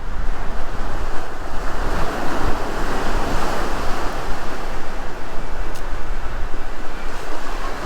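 Ocean waves roll and break close by at Surfside Beach near the new pier at low tide, a loud, constant surf roar with gusts of wind buffeting the microphone.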